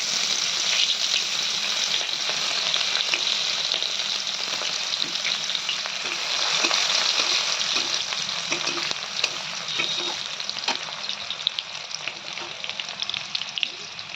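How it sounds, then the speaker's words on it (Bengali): Chopped onions fry in hot oil with cumin and bay leaf, a dense continuous sizzle with occasional stirring scrapes, close and steady throughout. "পেঁয়াজটা একটু ভাজা ভাজা হয়ে গেছে"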